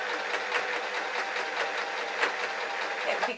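A sewing machine stitches the seam of a fabric bag hat in a fast, even run of mechanical clatter, close and continuous for a few seconds.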